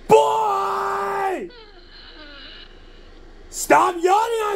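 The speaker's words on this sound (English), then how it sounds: "Stop yawning on me!" Talking Tom, the cartoon cat in the mobile game, gives a long drawn-out yawn, a voiced groaning tone that falls away, followed after a quiet pause by another vocal burst.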